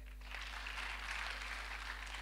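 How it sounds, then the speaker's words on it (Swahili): Congregation applauding during a Kikuyu church service, a faint, steady patter of clapping from many hands that swells and holds for a couple of seconds over a low electrical hum. "makofi kwake"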